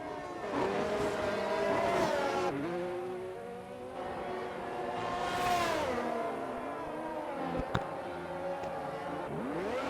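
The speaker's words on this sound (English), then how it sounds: "As we ride on board CN Pistol, preparing to go on their final flying lap." Onboard a race car during a flying qualifying lap, the engine screams close and loud, its pitch climbing through the gears and dropping sharply at shifts and braking, with a brief tyre squeal near the end.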